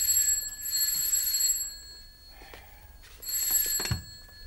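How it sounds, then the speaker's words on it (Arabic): A telephone rings at dawn in a quiet home, sounding two bursts of bright bell-like ringing separated by a short pause, fairly close and clear. "تليفون ايه اللي على الفجر ده؟"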